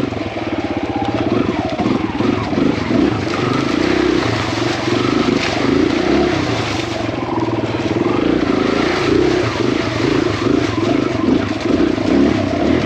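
A Kawasaki KLX 140RF four-stroke dirt bike rides a wet, swampy trail, its engine droning steadily and close throughout with rising and falling revs and some clattering.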